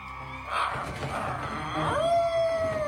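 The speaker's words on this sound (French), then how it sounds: "c'est la pleine lune, c'est Titeuf qui se transforme en chien-garou" A cartoon boy turning into a dog-werewolf under the full moon lets out a rising, sustained howl after some growly, rustling noises, loud and close.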